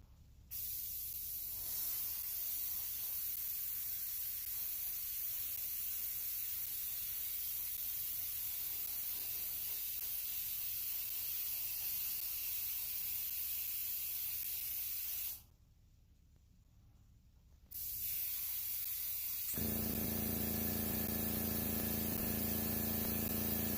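A sprayer hisses in long, loud continuous bursts with a brief pause, overspray drifting off to the side, followed by a lower rumbling tone near the end; no talking.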